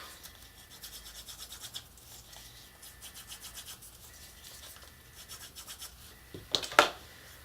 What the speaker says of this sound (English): Give it the burnish.